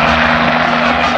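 Cartoon helicopter flying close by: a loud, steady whirring engine drone with pulsing rotor tone, continuous throughout and with no talking over it.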